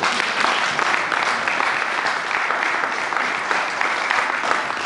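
A church congregation breaks into sustained, energetic applause acclaiming the Lord, a thick and even roar of clapping that stays loud and close from start to finish.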